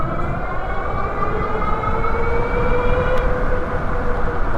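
An AWD Radrover electric bike pulls away on both throttles, its motor whine climbing steadily in pitch, loud and close against a rumbling background of wheel and wind noise.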